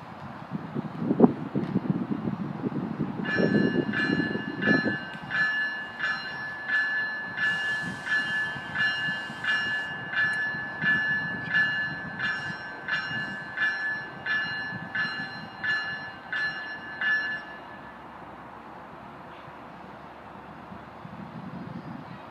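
A GO Transit train with cab car 250 and MP40PH-3C locomotive 652 rumbles past at moderate distance at Bronte station, with a steady rhythmic clatter of wheels over rail joints that builds, holds, then fades.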